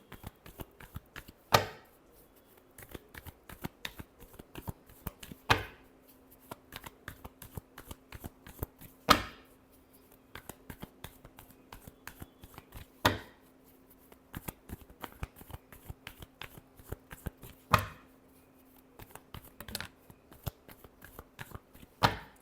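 Tarot cards being shuffled by hand in a quiet room: a long stream of soft, rapid riffling flicks, broken every few seconds by sharper taps as the deck is squared. The sound is close but faint, with no talk.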